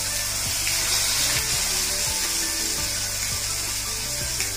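Tamarind chutney goes into a hot pan of tempering, setting off a loud, steady hiss and sizzle that fills the whole stretch, with a few faint clicks and scrapes underneath.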